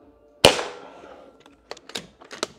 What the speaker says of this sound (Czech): střílím z úplně nové zbraně